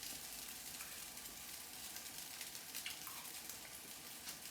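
Kimchi fried rice is stir-fried in a hot pan, a steady close crackling sizzle with faint scraping of stirring, quiet and continuous with no talking.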